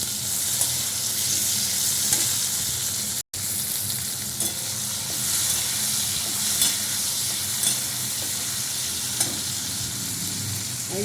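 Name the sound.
tomato added to frying onions, sizzling and stirring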